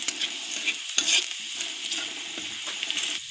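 Vegetables for momo filling fry in hot oil with a steady, fairly close sizzle while a spatula stirs them in repeated scraping strokes.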